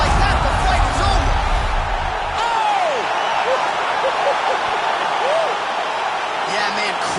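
Arena crowd noise from the UFC 4 video game, a steady loud roar of cheering and whooping after a fight-ending punch, with commentary voices running over it throughout.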